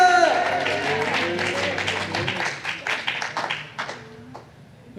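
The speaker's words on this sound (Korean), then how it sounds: "하나님께 영광의 박수 올려드립시다" Congregation clapping together in a church after worship singing, a dense burst of applause that thins out and fades over a few seconds, with voices mixed in.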